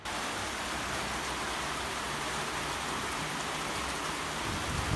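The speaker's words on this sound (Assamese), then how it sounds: "3টামান বজাত বৰষুণ আজি আকৌ দিলে" Afternoon rain falls steadily, a dense, even hiss of drops on surfaces that holds unbroken throughout, with no voices.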